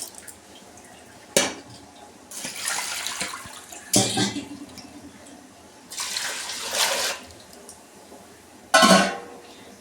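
Moong dal and rice are washed in water for khichdi, with several bursts of swishing and splashing separated by quiet pauses, close and moderately loud, and a few clinks of a vessel.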